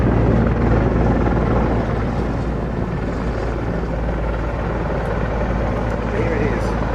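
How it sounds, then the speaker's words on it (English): A Czech Air Force helicopter of the 221st Helicopter Squadron takes off at an aviation show, its loud, steady rotor and engine roar filling the air continuously while a voice talks over it. "Here it is, getting back into the air for the 221st Helicopter Squadron of the Czech Air Force."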